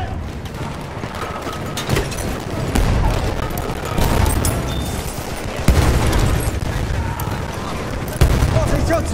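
Gunfire and a grenade blast in the Battlefield 1 video game, with continuous busy battle noise and several louder bursts over about nine seconds, and voices shouting amid the combat.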